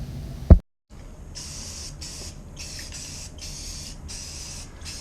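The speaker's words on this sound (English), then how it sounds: "not so shaky with spraying the paint in here" Short hissing bursts of spray paint, about six quick sprays in an uneven rhythm, close by, after a brief click at the start, for hydro dipping an RC car body.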